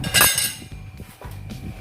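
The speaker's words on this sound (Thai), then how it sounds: "ตัวนี้คือกระทะนะครับ เป็นกระทะอลูมิเนียม" Someone handles an aluminum tabletop grill pan, 41 cm across the rim, making a few close, loud metallic clinks and clanks in quick succession with brief pauses between.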